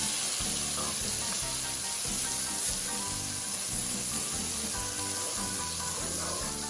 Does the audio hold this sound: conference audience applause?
no